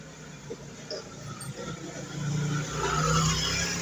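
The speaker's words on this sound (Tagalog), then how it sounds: "May dumaan pang motor mga kabusing." A motorcycle passes along a rice paddy dike in the countryside, its engine droning faintly at first, then swelling louder and nearer toward the end.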